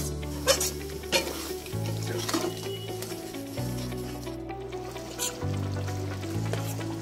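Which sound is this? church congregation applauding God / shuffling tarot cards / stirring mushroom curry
stirring mushroom curry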